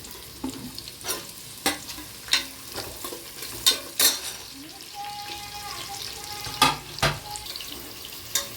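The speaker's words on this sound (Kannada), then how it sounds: "ನೆಕ್ಸ್ಟ್ ಆನಿಯನ್ ಚಾಪ್ ಮಾಡಿರೋದು ಹಾಕಿ." Chopped onion frying in a pan for ghee rice, with repeated sharp scraping strokes of a spoon over a continuous close sizzle and a brief faint tonal hum midway.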